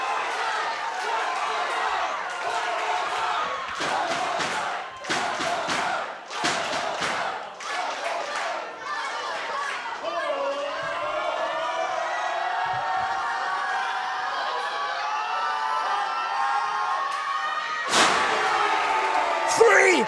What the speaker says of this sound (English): Huge body slams.